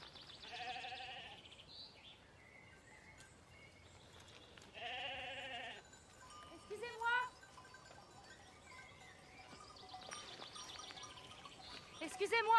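Goats bleat in a few separate bursts, fairly close, with quiet gaps between and some faint birdsong in the background.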